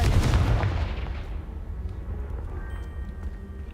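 Confringo spell blast in the video game Hogwarts Legacy, a single heavy explosive boom at the start that rumbles and fades into a long decaying tail, followed by faint debris clatter.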